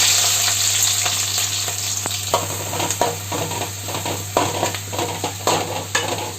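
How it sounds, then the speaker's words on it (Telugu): Onions and green chillies fry in oil for chicken dum biryani, a strong steady sizzle broken by repeated metallic scrapes and taps of a spoon against the pan. "ముందుగా ఆయిల్ పెట్టుకున్నాను. దానిలోకి ఆనియన్స్, పచ్చిమిర్చి వేస్తున్నాను."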